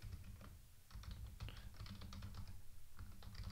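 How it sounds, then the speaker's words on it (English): Computer keyboard typing heard quietly as a rapid, irregular run of light clicks and taps over a few seconds. "Login password, I'll type that in."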